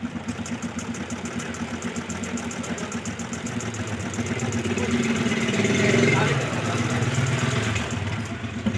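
A household sewing machine, repaired after it kept breaking thread, runs with a steady buzzing whir over a low motor drone. It is close and loud and swells slightly in the middle as the speed rises.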